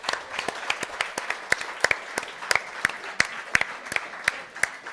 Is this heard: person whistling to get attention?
no